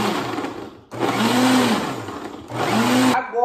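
A blender whirs loudly in two long bursts separated by a short pause, its motor pitch rising and falling as milk and milkshake ingredients churn.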